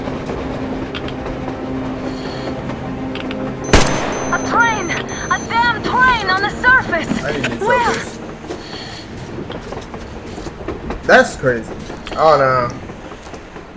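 A train rolls past in Metro Exodus, a loud rumbling clatter with sharp bangs, while someone talks over it.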